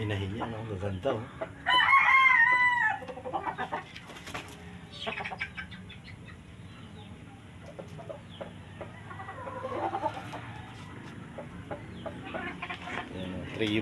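Hens and roosters, a sweater gray broodstock trio, with one loud nearby rooster crow early on followed by scattered clucking and fainter crowing under low background talk.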